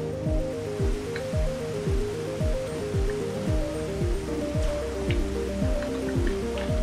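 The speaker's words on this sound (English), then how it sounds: "it's almost always raining on this world" Patter of rain in the video game Dig or Die, mixed with a repeating series of falling-pitch droplet tones, steady and fairly loud over a constant low drone.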